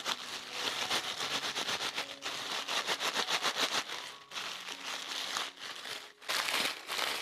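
Seed capsules being crushed inside a bag by hand, a dense run of crisp crackling and rustling crunches in bursts with brief pauses, close and fairly loud, no talking.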